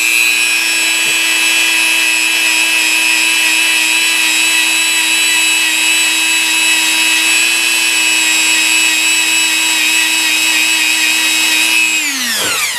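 A high-pitched rotary power tool buffs clear resin flames for a fire elemental miniature, whining steadily and loudly alone for about twelve seconds before spinning down at the end.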